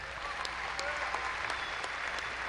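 Graduates at Angelo State University's fall 2017 commencement receive applause in a hall: a sustained, moderately loud patter of many hands, with a few crisp nearby claps standing out from the mass.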